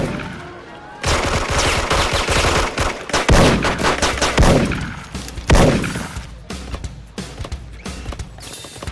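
Rapid gunfire in the battle royale game Free Fire, with sharp repeated shots and bursts crackling across most of the stretch, loud and close, with brief pauses between volleys.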